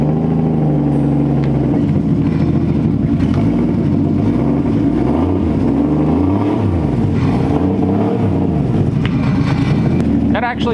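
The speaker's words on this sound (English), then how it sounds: "listen to those lifters tick." A Nissan Skyline idling loudly and steadily up close, its engine drone wavering in pitch, with the valve lifters ticking and voices talking nearby.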